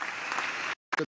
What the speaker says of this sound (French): Nous recevons avec sous une salve d'acclamation.